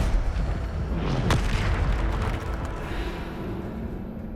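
A Bombarda spell blast goes off in Hogwarts Legacy: a loud, sudden booming explosion cuts through steady, dense combat noise, followed by rumbling debris that slowly fades.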